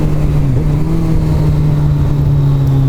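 A Kawasaki ZZR1400 motorcycle accelerating on a road to catch up with other riders, its loud engine droning steadily and rising slightly in pitch, heavily buffeted by wind rumble from the rider's position.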